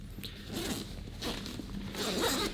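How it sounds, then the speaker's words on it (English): Chunky YKK zipper on the main compartment of an Osprey Porter 46 travel backpack being pulled open in several ripping strokes, close and fairly loud, with no talking. "we'll do this up and look inside of the main compartment, which is this kind of chunky YKK zipper"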